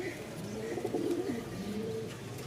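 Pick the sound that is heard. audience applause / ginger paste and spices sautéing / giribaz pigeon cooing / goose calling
giribaz pigeon cooing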